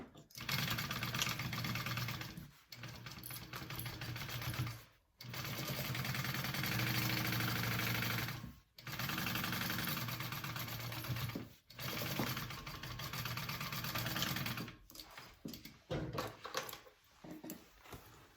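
A sewing machine stitches a seam on a bucket bag in loud, sustained whirring runs of a few seconds each, broken by brief pauses, with a faint mechanical idle in between.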